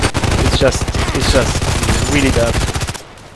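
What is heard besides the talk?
SKS carbine gunshots in the video game Contract Wars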